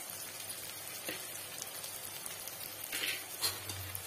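Ground cumin, coriander and turmeric frying in oil in a pan, a steady soft sizzle with faint crackles and a light clink or two, fairly quiet and close.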